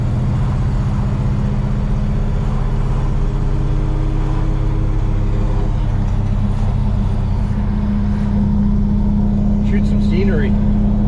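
A 1968 Oldsmobile Cutlass with a manual clutch cruises down a paved road, its engine giving a loud, steady low drone and road rumble inside the cabin, with a slight rise near the end.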